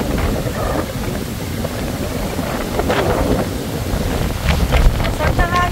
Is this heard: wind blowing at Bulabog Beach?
yes